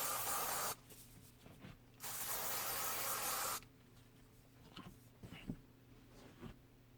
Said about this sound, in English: Let's see if I can show you how much it sprays.